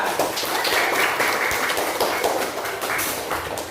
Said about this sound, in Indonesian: Beri tepuk tangan untuk Iban.